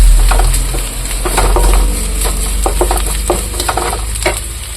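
Onions sizzle in a pan with coarse rock salt, stirred steadily with a spatula. There is a continuous loud frying hiss and repeated scraping strokes throughout, with no voices.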